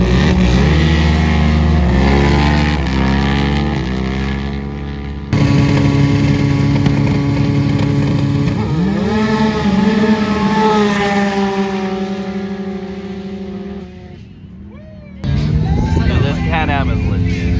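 Built UTV side-by-sides, Can-Am and Yamaha YXZ among them, roar in drag races, with loud sustained high-revving engines, rising pitch sweeps as they accelerate, and a crowd voice faintly under the noise.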